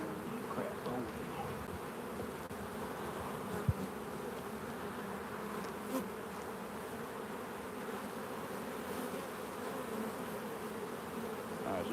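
Honey bees buzz during a beehive inspection, a dense, continuous, fairly faint hum of many insects close by, with a couple of small knocks from handling the hive.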